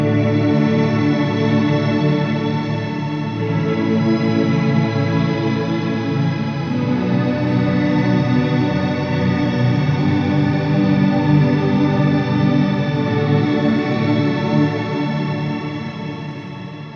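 A held chord is drenched in shimmer pitched an octave plus a fifth above with a lower octave added, forming a thick, continuous ambient wash that thins out slightly toward the end, with no voice.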